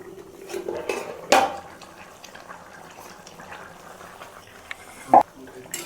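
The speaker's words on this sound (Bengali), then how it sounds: "ঢাকনাটা তুলব।" A pot lid comes off a simmering pot of duck curry cooked with pumpkin, giving two sharp metallic clanks roughly four seconds apart over a soft bubbling background, with a voice speaking quietly at times.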